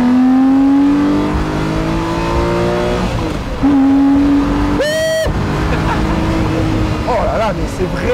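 Lamborghini Murciélago Roadster with a manual gearbox, its engine revving loud and close, pitch climbing, dropping at a gear change, then climbing again, with a short sharp whine partway through.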